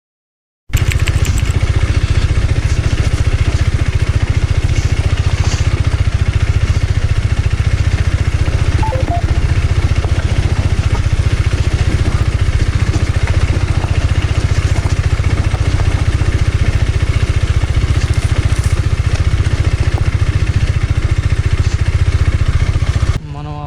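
A motorcycle engine runs steadily at low speed for a long stretch on a rocky trail, loud and close, with clattering and rattling over the rough stones.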